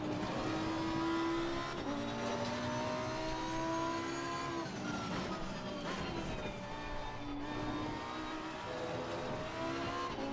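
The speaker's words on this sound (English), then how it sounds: "Right through here is where that right front locks up." A Lamborghini Huracan race car in Assetto Corsa Competizione at Paul Ricard screams along under heavy braking as its right front tyre locks up. The engine drone is close and continuous, with shifting pitch and a thin tyre squeal.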